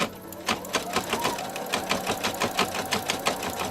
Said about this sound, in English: We're going to stitch our fill stitch, then we'll do the other colors, and then we're going to do our outline